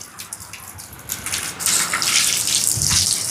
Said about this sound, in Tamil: இப்போ எங்களோட உலைக்கு தேவையான அளவுக்கு தண்ணியை நிறைச்செடுப்போம்